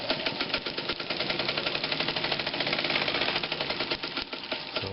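A Read's sailmaker sewing machine runs fast with rapid, dense mechanical clatter, holding a steady whirring rhythm that eases slightly toward the end as it coasts down, loud and close with no talking.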